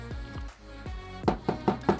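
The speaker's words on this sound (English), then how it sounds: "Knock on wood." Knocking on wood, about eight sharp close raps: a few spaced knocks, then four quicker, louder ones in a steady rhythm.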